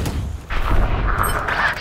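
A bomb grenade in a Valorant match bursts with a dull, booming explosion and a rumbling tail, a single blast heard during a competitive esports game.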